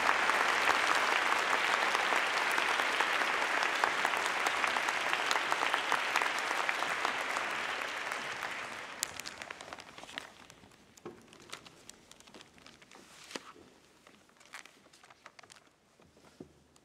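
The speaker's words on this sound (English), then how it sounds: "Please join me in a round of applause to the graduates." Steady, fairly distant applause for graduates fills a university commemoration ceremony hall, then thins out around the middle into scattered claps and small rustling noises.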